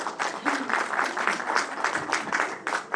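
Applause from the audience at a book presentation on the conquest and colonization of Chiapas, a modest crowd clapping in a loose, uneven pattern with audible individual claps and brief swells.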